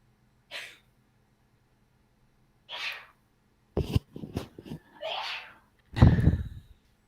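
Several sharp human sneezes burst out in quick succession over a few seconds, the last one loudest, with short pauses and breathy exhalations between them and no talking.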